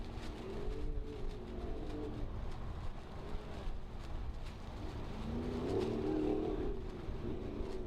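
An off-road race truck built by Herbst runs at the SNORE Battle at Primm desert race, a steady engine roar passing at middle distance under crowd and ambient noise, swelling slightly near the end.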